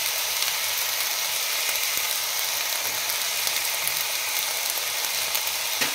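Vegetarian fried rice is stirred gently in a hot pan, giving a steady broadband sizzle with faint scraping clicks throughout and no talking.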